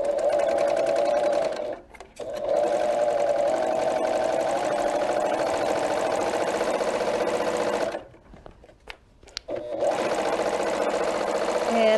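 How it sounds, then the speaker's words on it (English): Serger overlocking fabric, with embroidery thread in the upper looper, whirring steadily at close range in two long runs separated by short stops and hesitant restarts. "we have embroidery thread in the top, in the upper looper of our serger."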